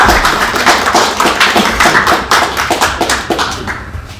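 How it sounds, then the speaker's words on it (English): An audience at a Sydney bonsai club meeting applauds, a dense, steady patter of many hands clapping close by that carries through the whole stretch and tapers slightly toward the end. "So if we can all give a big round of applause."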